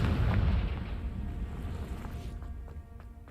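A Confringo spell blast in Hogwarts Legacy: a loud, booming explosion with a deep rumble at the start that gradually decays over a few seconds into fading debris and softer crackles.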